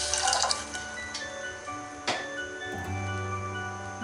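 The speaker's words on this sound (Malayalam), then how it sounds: "ഇതിലേക്കൊരു 100 ml വെള്ളം കൂടി ഞാൻ ആഡ് ചെയ്യുന്നുണ്ട്" Water, 100 ml, pours into a pan holding milk, starting with a brief splashing burst and then a softer steady liquid trickle with a couple of light knocks, close by, with no voices.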